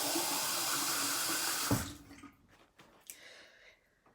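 Tap water runs steadily into a sink as a makeup brush is rinsed under it, a loud constant rush that cuts off abruptly, leaving faint drips, handling noises and small splashes.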